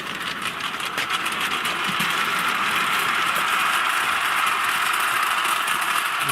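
A Mamod SL1 live steam model locomotive runs along its track with a rapid, steady chuffing and mechanical rattle, fairly close and continuous, building slightly at the start.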